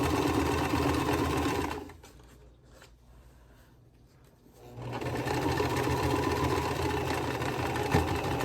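A sewing machine stitches a quilt block in a rapid, steady mechanical whir, pausing briefly for about three seconds before resuming at full speed, close and continuous.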